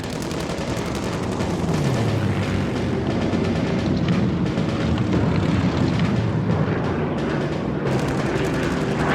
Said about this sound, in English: From a perfect attack position, the Spitfires strike, diving out of the sun.